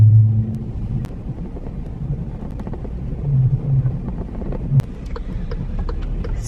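A car rolls slowly over a snowy, icy home driveway, its engine a low steady rumble close by, with faint crunches and a brief thump near the end; no one speaks.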